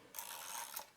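Dry whirring of the dirty gear mechanism in a Plaubel Makina 67 medium-format camera, one close, steady burst of about two-thirds of a second with a slight rise near its end.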